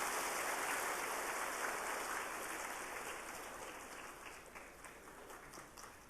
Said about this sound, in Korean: 뜨거운 박수로 우리 축하합시다.